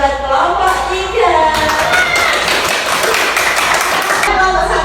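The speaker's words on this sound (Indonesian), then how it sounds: "tepuk tangan buat kelompok 3" A classroom of children applauds for group 3 with uneven, layered clapping and tapping. Voices of children and a teacher talk over the clapping.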